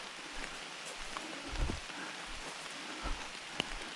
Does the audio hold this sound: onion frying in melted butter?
no